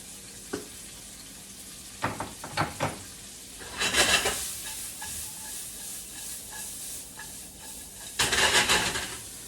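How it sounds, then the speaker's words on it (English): Onions, garlic, fresh chilies and black peppercorns sautéing gently in a pan, a soft continuous sizzle broken by a few knocks of the utensil and two louder bursts of stirring and hissing. "we'll saute these in low heat. That way you get the sweetness of the onions and the garlic"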